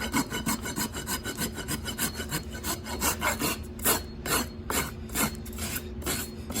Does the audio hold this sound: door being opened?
no